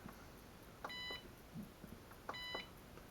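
Beeps from a Cheerson CX-20/Nova RC transmitter during manual trimming sound twice, each a short tonal chirp lasting about a quarter second, faint against quiet background noise.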